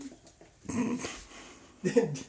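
A shut-in dog whimpers in a few short, soft whines, close by and mixed with a person talking.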